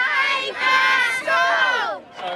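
A crowd of street protesters in Christchurch after the earthquake, shouting and chanting together in loud, sustained waves of many voices, close and strong with brief dips between surges.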